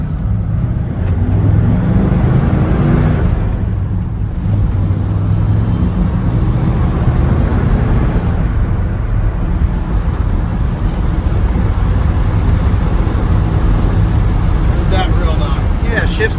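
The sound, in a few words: 1969 Ford F100 Ranger 360 V8 truck accelerating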